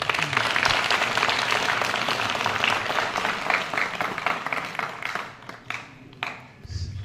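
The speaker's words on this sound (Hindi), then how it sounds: "मैं चाहूंगा उसके लिए जोरदार तालियां हो।" A large audience at a ceremony honouring a Mahavir Chakra recipient breaks into dense, loud, sustained applause that thins and fades toward the end.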